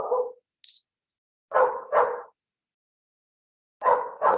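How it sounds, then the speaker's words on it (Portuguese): A dog barks in short bursts indoors: one bark, a brief yelp, then a quick double bark, silence, and another pair of barks, fairly close and alone. "Agora meu cachorro está ficando bravo."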